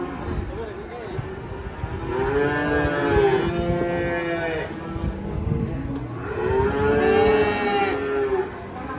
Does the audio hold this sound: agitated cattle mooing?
yes